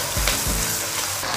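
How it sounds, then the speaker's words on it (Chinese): Lard, dried Sichuan peppercorns, pickled vegetables, ginger, scallion, garlic and aged red-oil chili bean paste stir-fried in leftover fish-frying oil in a wok. The sizzle is loud, close and continuous, with a couple of quick stirring scrapes and no talk. "煎鱼的油流锅里，再来一点猪油、干花椒、泡菜和姜葱蒜，"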